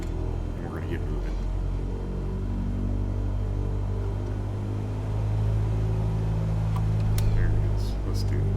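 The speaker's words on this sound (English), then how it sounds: "Love the sound of that Cessna." A Cessna's piston engine in Microsoft Flight Simulator runs at full throttle, a steady loud droning hum with a low rumble that builds slightly toward the end, while someone talks over it.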